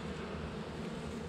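Steady, dense buzzing of honeybees from a managed hive at close range, a continuous low drone with no pauses and no voices over it.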